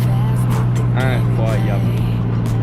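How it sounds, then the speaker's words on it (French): A Nissan Skyline R33 engine idles with a steady low drone while its air filter blows and hisses, heard from inside the car with people talking over it. "Incroyable le bruit, incroyable, le filtre air qui souffle"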